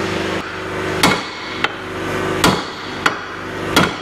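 Hammer blows on the lower ball joint of a Ford Crown Victoria Police Interceptor during front suspension repair, five sharp metallic whacks spaced unevenly, loud and close over a steady workshop hum, no talking.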